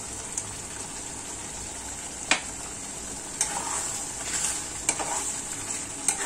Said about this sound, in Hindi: अच्छे से चलाते हुए भून लेंगे।